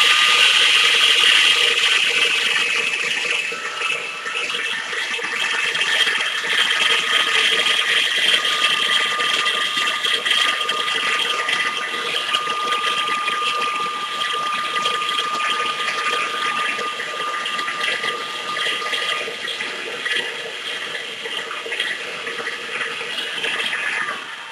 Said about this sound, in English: start your mixer mixing and start mix the rest of the syrup into the